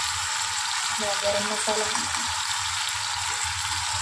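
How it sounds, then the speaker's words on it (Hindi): Spices with salt and turmeric sizzling in a hot pan for a Hyderabadi lunch, a steady bright frying hiss throughout while someone talks briefly over it. "इसको अच्छे से भून लेंगे।"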